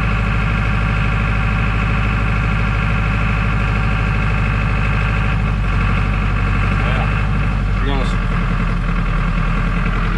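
A John Deere 5410 tractor idles on hand throttle with algae-contaminated fuel, a loud steady diesel drone that dips and surges, with someone talking over it.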